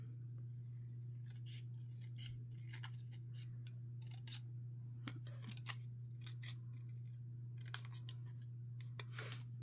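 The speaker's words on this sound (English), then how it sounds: "I'm going to trim this out the best I can with my really straight cutting" Scissors trim paper pieces for a Halloween card craft, with many quick snipping cuts in irregular bursts close to the mic over a steady low electrical hum.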